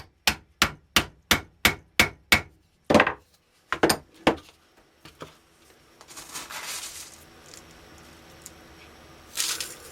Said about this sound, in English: using the flat-ended rammer. About 8 whacks per increment of the propellant.